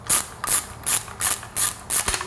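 Ratchet wrench with a 13 mm socket loosening engine mount bolts on a 2009 Mini Cooper Clubman, six quick clicking strokes in an even rhythm, close and alone.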